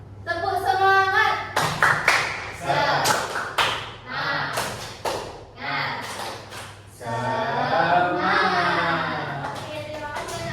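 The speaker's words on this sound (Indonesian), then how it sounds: "Tepuk semangat." Elementary schoolchildren in a classroom perform a rhythmic spirit clap, sharp claps and slaps landing in patterned bursts with pauses, mixed with their loud group chanting voices.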